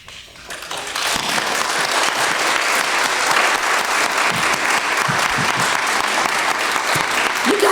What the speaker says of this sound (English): Let's give another wonderful round of applause for both Carmen Agra Deedy and Ellen Ruffin